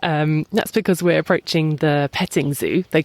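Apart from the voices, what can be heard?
None of the usual background noises is heard.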